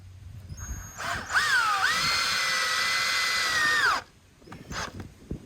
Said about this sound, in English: So we're just gonna go ahead and drill down through